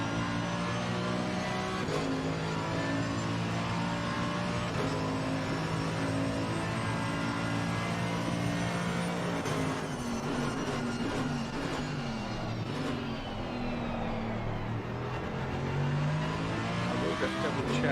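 A Mercedes race car in Assetto Corsa Competizione at the Nürburgring roars steadily with its engine revving and shifting throughout, loud and continuous beneath a commentator's voice.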